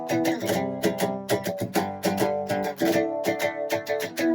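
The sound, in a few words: song verse chord progression being played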